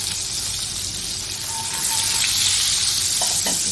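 Three cloves of chopped garlic sauté in a tablespoon of butter for spicy shrimp, a continuous bright sizzle that swells slightly midway, with faint clinks of a utensil.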